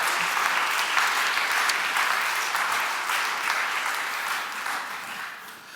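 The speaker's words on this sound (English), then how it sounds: "round of applause for a great sport" Audience applause at a live chess challenge event, steady dense clapping from a crowd that fades slightly toward the end, heard alone.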